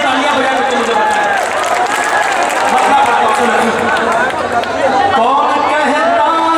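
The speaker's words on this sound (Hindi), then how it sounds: "जरा सा मतलब आप भी जोड़ करके दार तालियां बजा करके मुझे बताएं" Audience applause and crowd noise at an All India Mushaira in Shahi Katra, a dense, loud wash of clapping mixed with cheering and chatter that swells and holds throughout.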